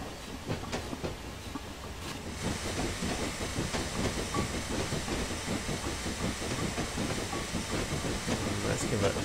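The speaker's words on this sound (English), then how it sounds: "Come on, you train, give us a push." A Black 5 steam locomotive in Train Simulator on the North Norfolk Railway in winter works hard with possible wheel spin, giving a loud, steady rapid chuff and rumble that builds after a moment.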